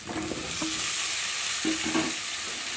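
Cut potatoes tumble into hot oil with sizzling chili powder and spices for a rohu fish curry, bringing a loud, continuous frying hiss broken by a few scraping stirs and clatters.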